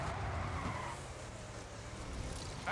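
Car engine revving in the Lego City Undercover video game, a steady droning motor with a short skid near the end, alone with no talk.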